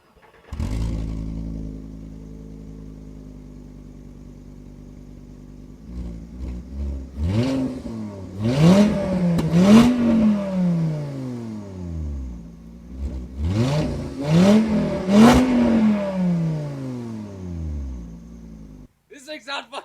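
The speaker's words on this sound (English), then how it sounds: "Let me get you guys a cold start clip and a little bit of a rev clip" A 5-cylinder engine in a VW Mk2 GTI idles steadily, then is revved twice in rising and falling sweeps, loud and close, with a person talking over it.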